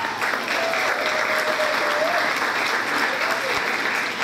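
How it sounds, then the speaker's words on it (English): A large audience at a black tie arts event claps in a loud, sustained, uniform wave of applause that fills the room evenly from start to finish, with faint cheering or voices mixed in. "So round of applause for you out there tonight."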